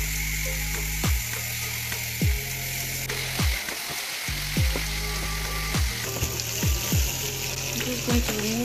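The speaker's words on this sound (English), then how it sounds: "Just adding my meat to the pan." Turkey meat fries in oil in a pan for a honey soy dish, giving a constant loud sizzle up close, broken by repeated sharp dropping tones, likely from the recording, roughly once a second.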